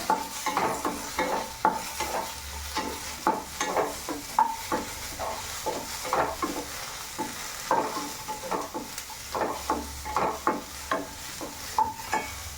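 Small onions being sautéed in a pan. A spoon scrapes and stirs them in a repeated rhythmic pattern over a soft, constant sizzle, heard close up.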